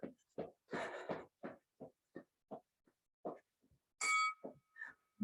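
A workout timer bell rings once, loud and clear, during a strength and cardio supersets session, standing out among grunting, pig-like vocal bursts and clanks.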